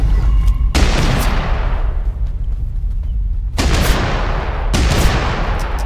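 Heavy gunfire from the video game TABG booms in three loud, sharp blasts, each trailing into a long rumbling decay over constant background noise.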